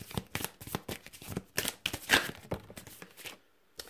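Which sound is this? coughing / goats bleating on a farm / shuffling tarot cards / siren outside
shuffling tarot cards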